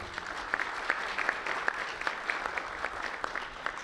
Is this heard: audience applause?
yes